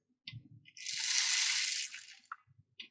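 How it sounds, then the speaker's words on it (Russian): A homemade rice-filled shaker makes a soft, smooth hissing swish lasting over a second, close but quiet, framed by a few faint taps and handling knocks. "Третий звук – рис."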